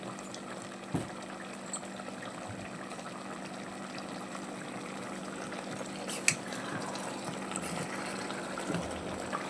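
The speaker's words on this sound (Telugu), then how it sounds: "మొత్తం చక్కగా మిక్స్ చేసేసుకొని సరిపడా నీళ్ళు పోసుకొని" Water is poured into a pan of country-style chicken masala, giving a steady, moderately quiet liquid rush that runs evenly throughout, with a few small clinks along the way.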